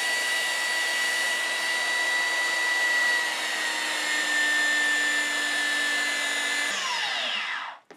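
Power sander running 60 grit sandpaper along the edge of a cosplay Hylian Shield, a loud, steady whirring drone that holds evenly for several seconds before abruptly winding down and cutting off at the end.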